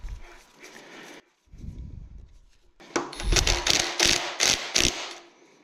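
A puller tool being threaded onto a timing gear of a 3.0 Duramax LM2 diesel engine during a teardown, giving close metallic ratcheting clicks and knocks in a rapid, uneven series that grow louder toward the end.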